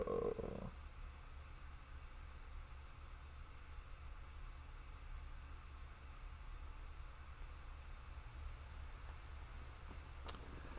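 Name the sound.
quiet rain drizzle in visual novel game Tsukihime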